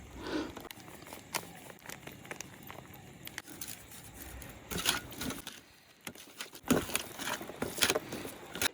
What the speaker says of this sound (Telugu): ఇక్కడ వాన అయితేనండి పడుతుంది మళ్ళీ మానుతుంది, పడుతుంది మానుతుంది, అలా కంటిన్యూ కురుతూనే ఉంది